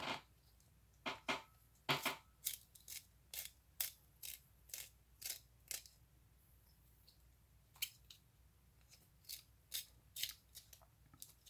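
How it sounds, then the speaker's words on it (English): A pencil being sharpened by hand during a drawing session, a series of quiet, crisp scraping twists in short irregular bursts, with small pauses between turns and no talking. "Gotta sharpen my pencil out quick."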